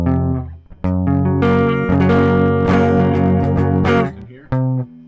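Guitar chords ring out on the bottom four strings: a series of sustained, strummed chords, loud and close, shifting in quick succession with brief breaks near the end and no voice over them.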